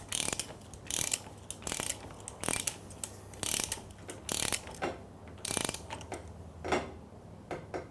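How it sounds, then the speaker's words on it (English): Torque wrench tightening a bolt on a Gilera Saturno motorcycle, a series of quiet ratcheting clicks in short bursts with small pauses between strokes, close and alone. "we torque the bolt up to 60 Newton meters"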